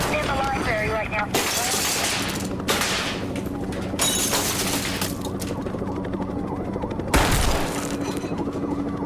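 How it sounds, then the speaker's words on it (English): Rapid gunfire bursts and booms from the video game Zero Hour, set in a school library, ringing out over a dense, continuous backdrop of game noise, with a voice speaking over it. "He's shooting in the library right now."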